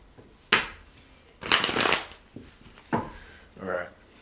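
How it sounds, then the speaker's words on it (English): Tarot cards shuffled by hand in a few separate bursts of riffling and slapping, close and crisp, with short quiet gaps between them. "Let me just do a quick shuffle."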